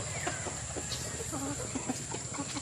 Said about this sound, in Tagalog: Mga manok.